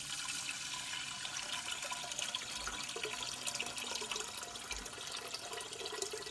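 Water pours steadily into a pot of rice for plain congee, a continuous splashing rush that is faint and even throughout, with no talking.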